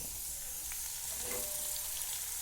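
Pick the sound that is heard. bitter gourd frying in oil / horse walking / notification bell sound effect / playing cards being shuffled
bitter gourd frying in oil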